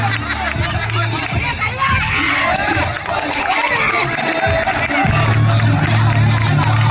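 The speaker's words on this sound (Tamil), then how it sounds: "கைத்தட்டி உற்சாகம் பண்றீங்க" Crowd at a women's game in Thanjavur, with steady hubbub and chatter, scattered clapping and cheering, and voices talking throughout.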